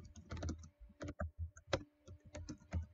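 Typing on a computer keyboard while writing Minecraft Skript code, a close run of quick irregular key clicks in short bursts with brief pauses between them.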